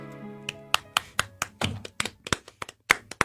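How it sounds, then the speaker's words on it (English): Slow, sparse golf clap from a single person, about a dozen crisp, separate claps at an uneven, unhurried pace, close and clear, following a brief musical tone at the start. "Nice golf clap for that performance"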